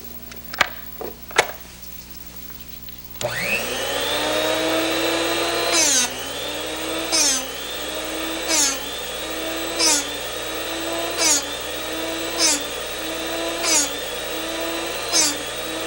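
A Drill Doctor Classic 400 sharpener splits the point of a drill bit: after a few clicks the motor spins up to a steady whine, interrupted by regular grinding pulses about once a second.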